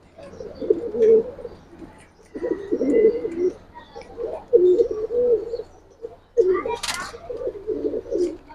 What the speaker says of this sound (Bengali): এটা বাঘা কবুতর, নটটা সিলভার, মাদিটা কালচা।